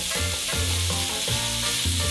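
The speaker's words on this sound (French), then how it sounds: "Et fritez bien la viande pour pas avoir un gros bloc." Ground beef frying in a pan on the stove gives a steady, loud sizzle, broken up by low, rhythmic scraping and pressing strokes that come every half second or so; no one speaks.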